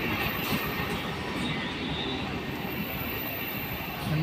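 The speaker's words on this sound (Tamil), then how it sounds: "EMU local ten towards Chennai சொன்னவனே வந்துரு விட்டேன்" An EMU local train heading toward Chennai near Ennore rumbles past as a continuous, loud, broadband roar of wheels and motors, filling the whole stretch without a break.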